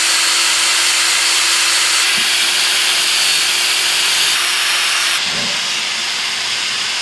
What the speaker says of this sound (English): Like I said, this is a wire brush right here.